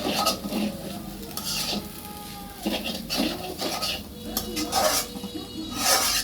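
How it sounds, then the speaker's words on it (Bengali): Noodles cooking in a pot, with utensils clinking and scraping against metal cookware while stirring, a faint sizzle underneath and a few sharper clanks scattered through the stretch, all at moderate loudness and close by. "নুডলস রান্না প্রায় শেষ।"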